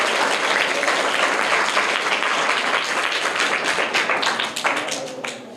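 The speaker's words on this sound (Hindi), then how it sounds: "तो एक बार और जोरदार ताली हो जाए।" An audience at a children's quiz event claps loudly for a winner, dense steady applause that thins out toward the end, close and alone without speech.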